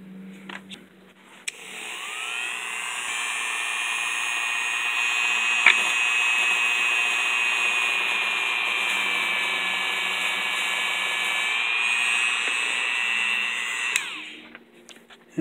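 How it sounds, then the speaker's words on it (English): A small rotary grinder shapes a guitar fret marker inlay in a circular motion, a steady high whine that spins up, holds for about twelve seconds, then winds down, with no talking. "grind in a circular motion and check our fit"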